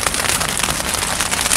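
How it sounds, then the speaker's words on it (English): Hail drumming steadily on a tarp put up over a garage work area in Chilliwack, a loud, dense, even patter of hard little impacts close by, with no talking. "it's hailing, that's why the tarp's up."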